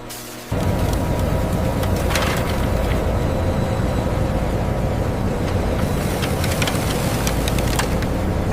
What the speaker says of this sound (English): this basket spins hard enough to fling every trace of syrup